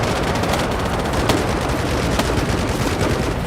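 Dense, continuous machine gun fire from many weapons in the game Hell Let Loose Vietnam, a loud unbroken battlefield roar with sharper individual shots cracking through, no voices.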